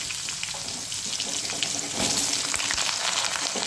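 Potatoes hit hot oil with whole garam masala, dried red chilli and cumin, giving a loud, steady sizzle that swells partway through, with scattered crackles and pops.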